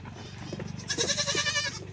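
Goats bleat on a farm in Tamil Nadu as they head out to graze after feeding, giving loud, close, wavering cries that overlap with one another, with a low hum underneath.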